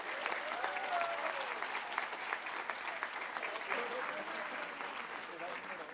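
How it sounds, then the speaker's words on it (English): An audience at a school board employee appreciation meeting gives a steady round of applause for a Crystal Apple Award winner, moderately loud and even throughout, with faint murmurs beneath it. "Let's give her one last round of applause."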